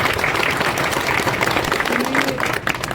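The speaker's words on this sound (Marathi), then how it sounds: "एकदा सगळ्यांनी जोरात टाळ्या वाजून त्या लोकांचंही" A dense, loud burst of crowd applause at an election victory celebration for an MLA, many hands clapping together in a steady roar that holds for a few seconds before easing slightly at the end.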